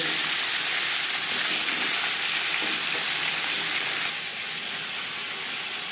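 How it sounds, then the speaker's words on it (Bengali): Katla fish belly pieces fry in hot oil in a pan, giving a steady, close hiss and sizzle that runs unbroken and eases slightly toward the end. "একটা সাইড ভাজা হয়ে গেলে অপর সাইজটা উল্টে দেবে"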